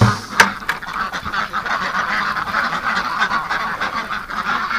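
Ducks in a pen at a duck hospital housing over a thousand birds give a close, continuous chorus of overlapping quacks and honks, with a sharp loud call near the start.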